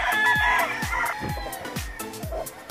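A gamecock stag crows close and loud, a repeated rising-and-falling call over a steady backdrop of other fowl calling and clucking.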